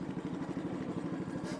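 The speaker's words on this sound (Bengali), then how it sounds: "নৌকার ইঞ্জিন স্টার্ট হয়ে গেছে।" A riverboat engine running just after starting on the Sangu river in Bandarban, a rapid, steady chugging drone with a faint clatter, quiet and somewhat distant.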